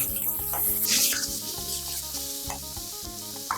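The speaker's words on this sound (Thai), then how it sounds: "จากนั้นผัดจนไก่เริ่มสุกครับผม" Steady loud sizzling as chicken pieces are stir-fried in a pan, a spatula scraping and tossing with rhythmic stirring strokes over continuous frying hiss, close up.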